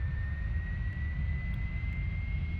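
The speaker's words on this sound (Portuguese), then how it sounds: "Vamos girar o motor esquerdo número 1." Left engine spooling up on a Carenado Premier IA business jet in a flight simulator, a steady low rumbling roar with a thin rising whine held throughout.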